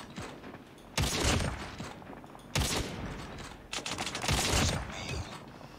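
Call of Duty Mobile gunfire, three loud, close bursts of rapid shots a second or two apart, each trailing off into lingering rattle and echo, with little talk over it.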